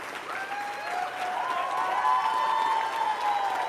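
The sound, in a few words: crowd clapping and applauding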